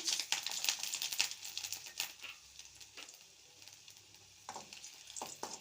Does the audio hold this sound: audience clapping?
no